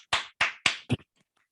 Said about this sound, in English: I'll just clap